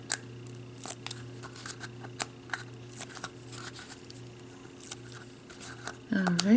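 Labels peeled off small plastic containers, heard as scattered faint crinkles and sharp ticks at close range over a low room hum, with a brief louder scrape near the end.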